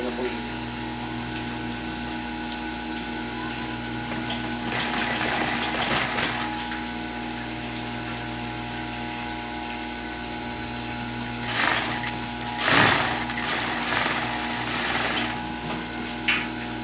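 A sewing machine runs steadily and close while stitching pleats on a guayabera shirt, a continuous mechanical hum with a few louder bursts, under a person talking.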